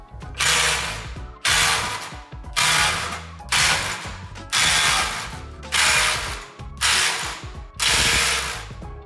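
Cordless impact drivers, a DeWalt DCF845 and a Milwaukee M18 Fuel 2953, hammer bolts loose in a rapid series of loud, close ratcheting bursts, about eight in a row separated by brief pauses, with no talking.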